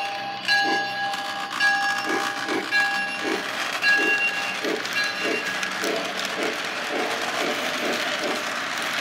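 A Lionel LionChief C&NW steam toy train set running on its track, giving a steady, evenly spaced clickety-clack over a soft mechanical hum, close and moderately loud, with no talking.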